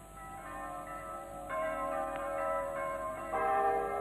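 A church bell rings as part of a sound and light show, with sustained, overlapping metallic tones that swell a little louder over several seconds against a steady background.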